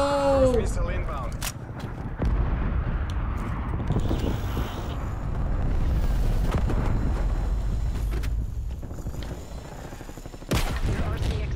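A missile strike explosion lands during a Call of Duty: Black Ops Cold War multiplayer match, with a broad rumbling roar amid ongoing gunfire and game noise over roughly twelve seconds, under voices.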